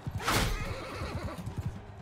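In the video game Mount & Blade 2, a cavalry horse lets out a loud whinny up front, then hooves pound in a quick galloping rhythm as the mounted charge moves past, with no voices.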